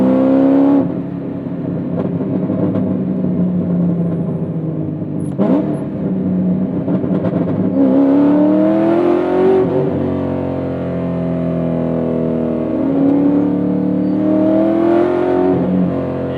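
2007 Corvette C6 Z06 V8 engine heard from inside while driving, a loud continuous drone that rises through several revving climbs, drops between gear changes, and pulls up again, with no talking.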